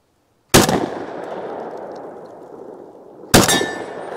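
Two loud Citadel Bosshog 12 gauge shotgun blasts about three seconds apart, each followed by a metallic clang and ringing reverberation that fades between shots, with no talking.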